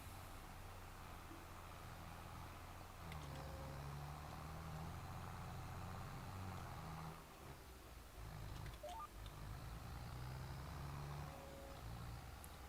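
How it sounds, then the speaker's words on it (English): A John Deere 8330 tractor in Farming Simulator 22 drones steadily at a low, even pitch while disking a field, a constant engine hum with slight swells in load and no talking. "This tractor does sound pretty good."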